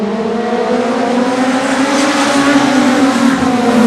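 A pack of short track race cars roaring through a restart, a loud, continuous layered engine drone that builds steadily as the field accelerates together.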